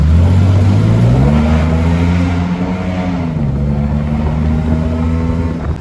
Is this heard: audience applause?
no